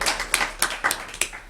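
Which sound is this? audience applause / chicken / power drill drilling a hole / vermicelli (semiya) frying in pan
audience applause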